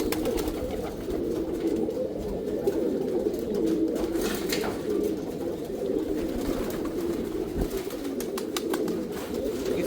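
Tame pigeons cooing steadily while bathing in water, a continuous low murmur of calls close by with faint splashing mixed in.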